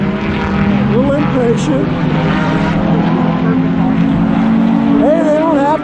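Race cars, a Mazda Miata among them, race in the snow, their loud engines droning and whining up and down close by while someone talks over the noise.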